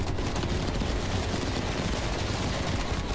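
Dense, continuous automatic gunfire from a Call of Duty Cold War match, a steady loud barrage of rapid shots with no pauses, filling the whole stretch.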